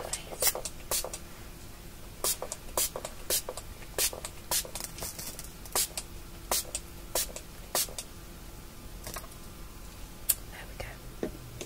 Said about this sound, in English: I'm just gonna spray this on your face.